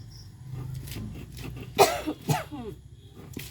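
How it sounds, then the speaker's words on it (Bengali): A person pounding garlic, ginger and chilli on a grinding stone coughs a few times, with a sharp loud cough near the middle followed by a second, softer one over quiet background. "আর এই গোড়াটা কুটলে কিন্তু অনেক পরিমাণে কাশি চলে আসে"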